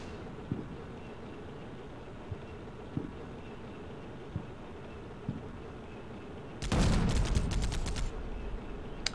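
Gunfire aimed at an Abrams tank in Combat Mission: Shock Force: faint distant single shots pop at intervals over a low rumble, then a loud close burst of rapid automatic fire breaks out.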